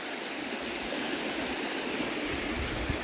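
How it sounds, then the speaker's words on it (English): A slow stream flows past a log in the Catskill Mountains, giving a steady, close, broadband rush of water with no voices over it. "The water's a little slower, and I think it has to do with this log here."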